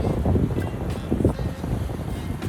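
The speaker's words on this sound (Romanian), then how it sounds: "Bate vântul, n-avem ce să facem" Steady wind gusting on a tropical beach in the Seychelles, buffeting the microphone with a dense low rumble throughout, loud and close, no talk.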